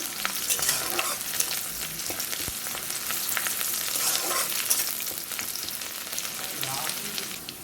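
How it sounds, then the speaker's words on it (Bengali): Onions frying in a pan until brown for a chicken curry, a steady dense sizzle with scattered stirring scrapes and clicks running throughout, close and fairly loud with no talking. "পেঁয়াজটা বাদামি রং করে ভেজে নিতে হবে"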